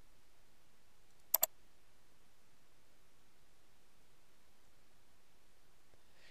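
A computer mouse gives a quick double click, two sharp close taps against a near-silent background, with no other sound around them.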